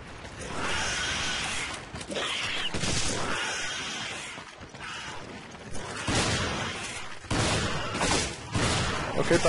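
Repeated gunfire and shotgun blasts in Resident Evil 5 crack out in uneven bursts over busy game noise, with loud clusters near 2, 6 and 9 seconds.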